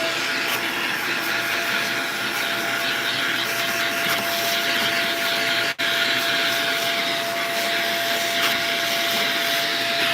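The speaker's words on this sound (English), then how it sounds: "I just want to vacuum this section here." A Shark canister vacuum cleaner runs on a floor with a steady, loud, high whine and airy roar, broken once by a very brief dip.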